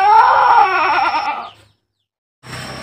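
A goat bleats loudly after an injection, one long wavering cry of about a second and a half, close to the microphone, followed by silence and the start of a second cry.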